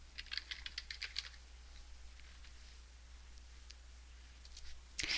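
Typing on a computer keyboard: a quick burst of close key clicks, then scattered lighter taps over a low steady hum, ending with another brief cluster.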